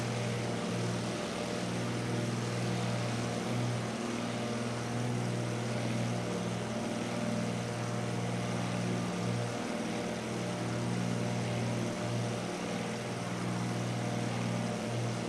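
A light aircraft cruises on a scenic Route 66 flight leg from Kingman, Arizona toward San Bernardino, California, its propeller engine droning steadily and loudly from inside the cabin for the whole stretch.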